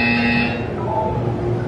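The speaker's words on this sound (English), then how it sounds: "You will hear a buzzer. When you hear the buzzer," A buzzer from the video game Portal 2: a harsh, loud electronic tone sounding once and cutting off after about half a second, followed by a lower electronic hum.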